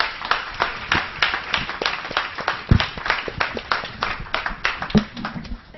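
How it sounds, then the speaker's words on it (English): Clapping from a panel audience at a fashion summit, a steady patter of separate hand claps fairly close, with no talking over it. "Guys, please, huge round of applause."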